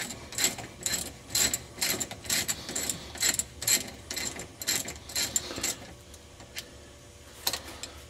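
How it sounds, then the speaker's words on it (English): A ratchet wrench turning out brake caliper bolts during a brake and rotor job, with a steady run of quick, close clicking strokes that pause briefly near the end. "So I'm going to go ahead and remove these bolts, which will free this up."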